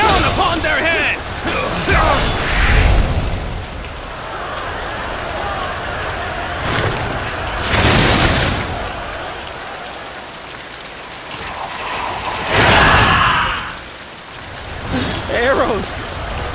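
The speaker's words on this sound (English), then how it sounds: "Now, let your arrows rain down upon their heads!" A volley of arrows rains down in the Dynasty Warriors Origins battle, a dense hissing patter sustained throughout with periodic louder whooshing bursts, loud and close.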